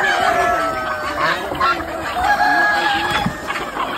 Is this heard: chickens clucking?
yes